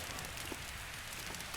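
Steady rain falls in Zelda: Breath of the Wild, a dense, even hiss of drops hitting the ground that holds at a constant level with no voices.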